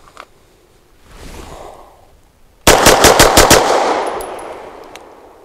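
A Grand Power X Calibur Mk12 pistol fires a rapid string of about six loud, sharp shots at close range. Faint rustling handling comes first, and the shots are followed by a brief ringing decay.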